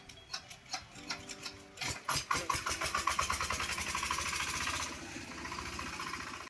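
A small non-self-starting generator engine is cranked: a few rapid uneven chugs, then it catches and settles into a loud, steady mechanical running rhythm close by, with no talking.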